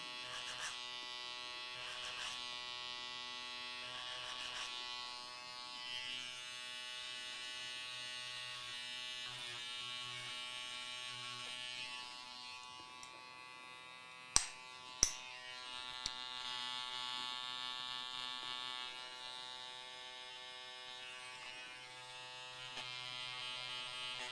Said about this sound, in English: Again, a little trimmer over comb.